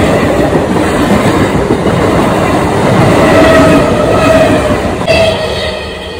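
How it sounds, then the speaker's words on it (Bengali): A train rumbles steadily past a closed railway gate at close range, loud and continuous with rhythmic wheel clatter and a brief high squeal near the end, no voices. "রেল গেটে এসে আটকে গেছি যেহেতু ট্রেন যাবে গেট বন্ধ হয়ে গেছে"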